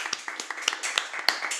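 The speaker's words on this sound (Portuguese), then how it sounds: "Uma salva de palmas para esse homem que ele merece," Brief clapping from a small podcast audience or studio group, a few uneven claps in quick succession, fairly close and sparse.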